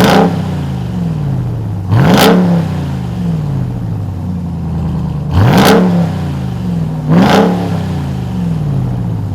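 A RAM 1500 TRX truck's supercharged V8 engine is revved three times from idle. Each sharp, loud blip rises and falls quickly over a rumbling idle, captured close by.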